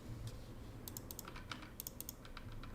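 Fingers type on a computer keyboard in short bursts of crisp, close key clicks with brief pauses between them, quiet, with no one speaking.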